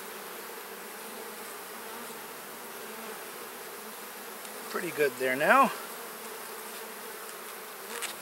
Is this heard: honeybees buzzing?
yes